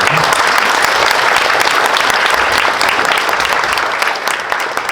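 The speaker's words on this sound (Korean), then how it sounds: "오늘 좋은 토론해 주신 패널 세 분들께 다시 한번 박수." Loud, dense audience applause for a three-member panel after a discussion on the semiconductor industry, sustained clapping from a full room at a steady level that dips slightly near the end.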